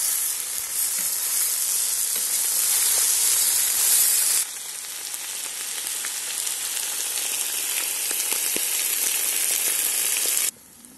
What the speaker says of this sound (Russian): Дальше отправляем морковь. Также все обжариваем.